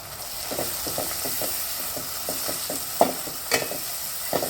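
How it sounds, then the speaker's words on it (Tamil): Coriander leaves being sautéed in ghee for a Dindigul-style mutton biryani: a soft steady sizzle beneath a run of regular scraping stirs, with a few sharper clacks near the end. "அது கூட இப்போ கொத்தமல்லி சேர்த்து வதக்கிக்கலாம்."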